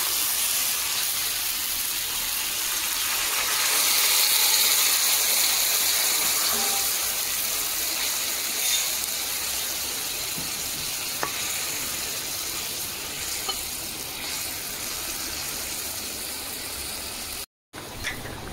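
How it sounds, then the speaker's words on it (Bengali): Spiced water poured over hilsa fish frying in a pan, producing a loud, steady sizzle and hissing steam that swells early then settles into a softer continuous crackle, with a brief dropout near the end. "মাছের পেছন পাটটা হালকা ভাজা হয়ে গেছে, মশলা জলটা দিয়ে দেবো।"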